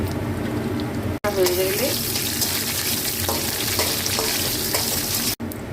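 Dried red chillies sizzling in hot oil in a home kitchen, a continuous crackling fry with some stirring, with a brief spoken phrase over it.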